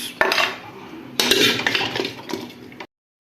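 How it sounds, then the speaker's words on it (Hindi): Boiled beef pieces being lifted from a pot onto a plate, with several clinks and scrapes of metal utensils against cookware, close and fairly loud, in bursts that stop abruptly near the end. "तो इसको अब हम एक प्लेट में निकाल लेंगे।"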